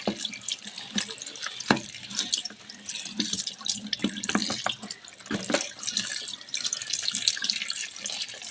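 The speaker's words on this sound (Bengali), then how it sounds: "তো এই ফুলটাকে একটু জল দিয়ে পরিষ্কার করে ধুয়ে দেবো" An artificial flower rinsed under a running tap: a steady splash of water into a sink with irregular spatters and drips, close and fairly soft.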